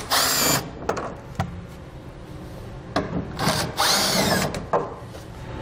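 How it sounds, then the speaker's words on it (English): A power drill fitted with a T15 Torx bit backs out fasteners from a 2015 Chevrolet Silverado wheel well liner, with two loud whirring bursts separated by quieter rubbing and handling noise. "We're going to do that by using a T15 Torx bit to remove these fasteners."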